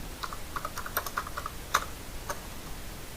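Someone typing on a computer keyboard while writing a Bangla CV in a word processor: soft, quick, irregular key taps, fairly faint against a steady background hiss, with no voice.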